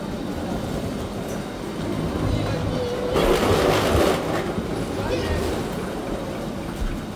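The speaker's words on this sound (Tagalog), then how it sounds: "So It's a train." Eurostar train running on rails between Paris and London, a steady low rumble throughout with a louder swell of rolling noise in the middle, heard from inside a coach.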